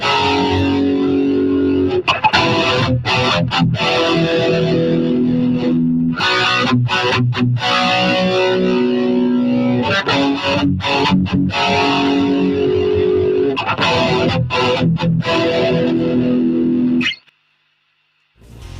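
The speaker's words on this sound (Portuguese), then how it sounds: "Vamos fazer um teste de som nela para ver como os acordes de metal mais pesado aparecem com distorção de alto ganho" Electric guitar playing heavy metal chords through high-gain distortion, a dense, loud, saturated wall of sustained and chugging chords with brief choked stops, ending abruptly into near silence; strings had been boiled.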